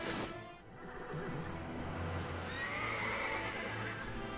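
A horse whinnies sharply at the start in LEGO The Lord of the Rings video game, followed by a steady wash of in-game ambience.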